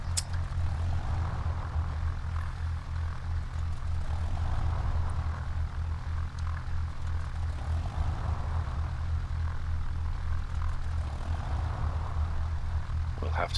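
Piper Archer light propeller plane taxiing in the X-Plane 11 flight simulator, a steady low engine drone with constant propeller hum throughout, loud and close, while someone talks over it.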